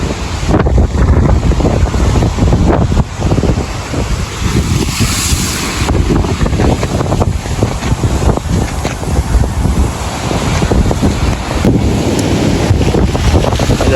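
Strong cyclone wind roars continuously into the microphone, buffeting and gusting over rough surf in Jaffna, with no voices.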